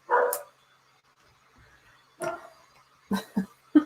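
A dog barks several times nearby: one sharp bark, a pause, then another, and a quick cluster of barks at the end.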